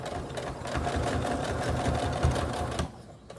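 A sewing machine runs close and loud, stitching elastic onto a fabric mask with a fast rhythmic mechanical chatter for about three seconds before it stops.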